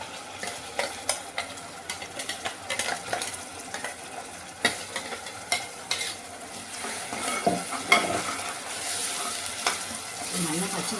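Ground tomato, onion and garlic masala paste sautéing in a pan, a steady close sizzle broken by repeated scraping and stirring strokes of a spoon against the metal, with no talking.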